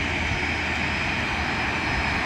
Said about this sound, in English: Okay, folks, that is Marissa's plane